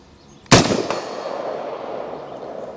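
A single sharp, loud report from an AR-15 rifle firing 5.56 75-grain Sabre Blade rounds, followed by a second fainter crack and a long echoing decay outdoors.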